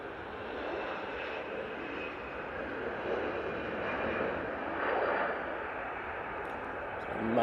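An Emirates Airbus A380 roars steadily at an airport, a broad, sustained jet rumble that swells slightly toward the end, with a voice talking over it.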